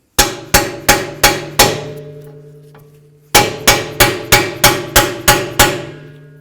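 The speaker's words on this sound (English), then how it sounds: "I'm going to go ahead and put it right along the bearing and then drive it in." A hammer strikes a bearing installer to drive the rear axle bearing into a 1994–2004 Chevy S-10 axle tube. Two bursts of sharp, ringing metallic blows come close and loud, five then eight, with a short pause between them.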